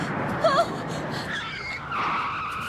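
A car's tires squeal in a loud, sustained skid in an episode of the Cowboy Bebop anime, with wavering screeching over engine rumble and a brief whistle-like tone.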